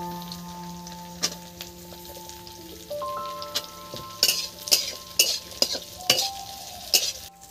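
Sliced onion frying in a pan for a brinjal and egg dish: a soft sizzle runs under scattered utensil clinks and stirring scrapes, with sharper clatter toward the end and steady background hum.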